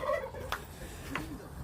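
Turkeys gobble in a bird yard at dusk, with two short rattling gobbles at a moderate distance over faint outdoor background noise.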